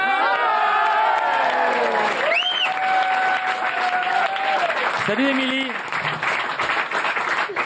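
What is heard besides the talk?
studio audience applause during radio phone call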